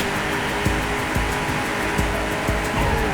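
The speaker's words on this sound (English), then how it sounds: "The pods sound like they are powered by lawnmower engines." A buzzy, lawnmower-like hover pod engine drone from the PC racing game POD Gold runs continuously with a rough rattling tone and faint periodic thumps, loud and close.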